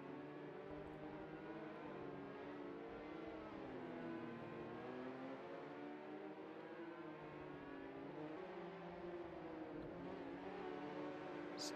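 Mini Can-Am Streetfighter race cars lap the Newcastle track, their engines a steady, fairly faint drone that rises and falls in pitch as they circle, with no voices.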